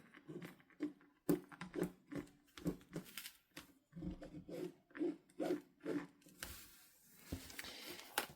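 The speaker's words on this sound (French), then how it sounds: "je vais faire donc un trait" A pen or marker drawing a marking line on fabric gives short scratchy rubbing strokes, several in a row with brief pauses, close and soft, with no talk over them.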